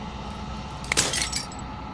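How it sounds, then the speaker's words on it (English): Glass shatters in the video game Slay the Princess, a sudden bright crash with tinkling fragments over a steady ambient game background. "As the final fragment of glass shatters, you see yourself with newfound clarity."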